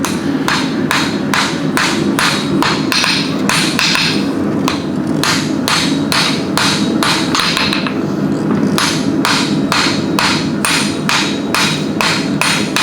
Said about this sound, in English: round one more time with our light hammer before we start punching.